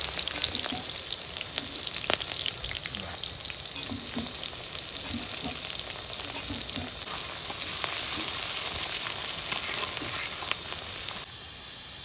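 Onion and green chillies fry in a pan for a fish curry cooked outdoors under a fallen tree, a steady dense sizzle with occasional stirring scrapes and pops, loud and continuous with no talking.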